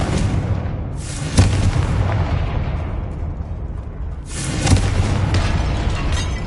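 Confringo spell explosions in the Hogwarts Legacy video game, two loud booming blasts a few seconds apart, each with a sharp onset and a long rumbling roar that decays.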